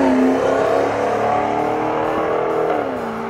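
A Maserati Quattroporte with a Ferrari-built direct-injection petrol engine roars loud and close in a sustained rev, its pitch holding and then sagging slightly near the end.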